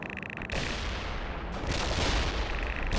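A battle in the 2007 video game World in Conflict roars with continuous heavy gunfire and booming artillery, a dense, loud barrage that swells after the first half-second and keeps rumbling.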